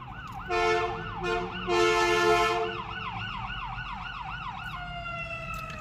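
An emergency vehicle siren wails in repeated rising and falling sweeps, with bursts of louder horn-like blasts early on, moderately near.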